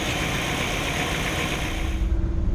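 A 1959 Chevrolet Bel Air engine running with a freshly replaced fuel pump, a steady, close rumble with a faint rhythmic throb and no talk over it.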